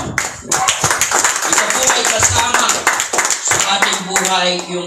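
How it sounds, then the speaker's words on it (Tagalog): Brisk, dense clapping from a church congregation fills the space, steady for several seconds with a few voices mixed in underneath. "Palakpak po sa Panginoon."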